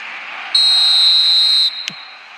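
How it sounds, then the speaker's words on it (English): A referee's whistle sounds at kickoff in an eFootball mobile match, one long steady shrill blast lasting about a second, followed by a short sharp click. "There's the whistle."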